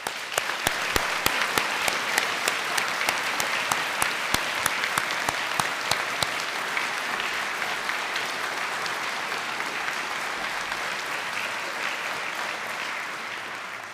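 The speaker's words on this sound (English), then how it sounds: "And we'll give you a round of applause and congratulations in that context." A large audience applauds graduating students at a university winter conferring ceremony, with steady, sustained clapping throughout, sharp individual claps standing out early and the applause easing slightly toward the end.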